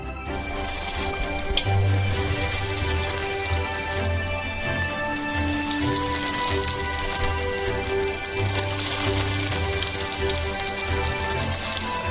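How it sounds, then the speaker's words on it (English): Potato croquettes deep frying in a pan of oil on the stove give a steady dense crackle and sizzle, close and continuous, without any voices. "And we deep fry our potato croquettes."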